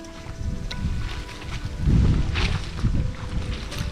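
White clothes are rinsed by hand in a bowl of water outdoors in a Zimbabwean village, giving close, low sloshing and splashing with a heavier surge midway, set against light wind noise.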